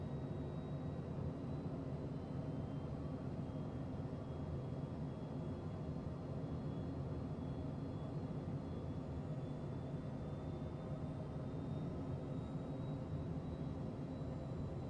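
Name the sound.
airplane in crosswind in Tailstrike video game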